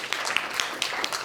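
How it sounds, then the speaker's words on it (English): A small audience at an outdoor live theater performance of The Tempest in spring 2021 gives scattered, light applause, with sparse individual claps heard faintly at some distance. "give yourselves a round of applause"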